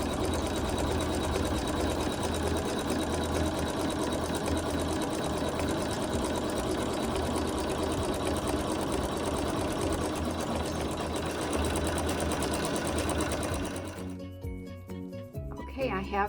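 Sewing machine zigzag stitching wool appliqué onto a quilt block, a loud continuous whirring run that stops abruptly near the end, followed by quieter handling sounds.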